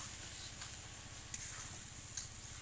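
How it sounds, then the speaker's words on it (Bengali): Eggplant bharta frying in oil in a pan, a soft steady sizzle with faint stirring scrapes, close and even throughout. "এবার নেড়ে চেড়ে এটাকে যত সময় পর্যন্ত তেল না ছাড়ে তত সময় পর্যন্ত এটাকে ভাজা করতে হবে"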